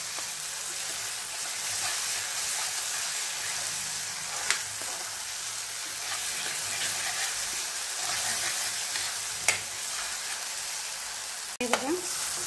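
Masala being stirred and fried in oil for Kolhapuri paneer masala, a steady close sizzle with occasional soft scrapes of the spoon, ending in a brief clatter, no talking.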